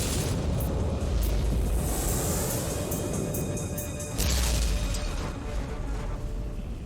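Heavy booming blasts of turret plasma cannons fire again and again in Warhammer 40K: Inquisitor - Martyr, loud and close, with crackling bursts over a constant rumbling roar.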